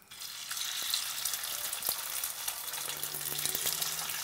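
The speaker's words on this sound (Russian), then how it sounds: "Мясо жарим частями." Pieces of beef fry in plenty of hot oil, almost deep-frying, giving a continuous bright sizzle with scattered pops and crackles, close and steady, with no talking.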